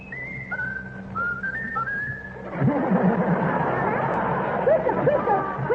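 Whistling of a tune, a clear melodic line that soon gives way to a noisy crowd of many people whistling and chattering together.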